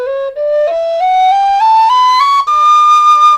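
An aluminium low D whistle plays a clear ascending run of notes, stepping up one by one into a bright upper octave, loud and close, with a brief breath gap near the end.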